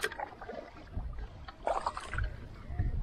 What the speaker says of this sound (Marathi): तर मित्रांनो कायाकी करतोय.